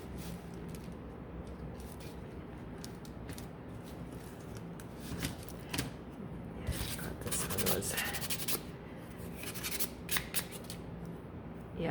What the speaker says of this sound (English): I'm only sanding this because I had a dud and I had a little extra on the edge there from the machine.